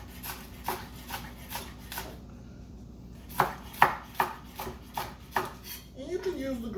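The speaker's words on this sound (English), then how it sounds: "you're gonna garnish with these scallions, or green onions, or whatever you call them. I like to cut on the bias" A knife slices scallions on the bias against a cutting board, giving a steady run of crisp, close chops, a brief pause, then another quicker series of sharper cuts, with no talking.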